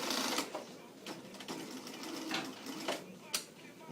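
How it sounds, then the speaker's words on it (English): A sewing machine stitches a 5/8 seam on an aloha shirt. It runs close by in short, rapid bursts of needle clatter, with brief pauses between runs. "I'm not going to serge it, I'm just going to sew it."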